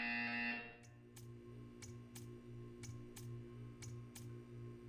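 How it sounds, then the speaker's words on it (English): A steady electronic hum underlies a series of short, regular buzzer pulses in Portal 2, roughly one every half second, after a louder tone at the start. "You will hear a buzzer."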